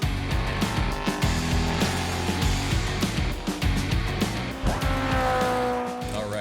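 A revving car engine and squealing tires play as a sound effect, loud and continuous with rising and falling engine pitch, joined by a high screech near the end.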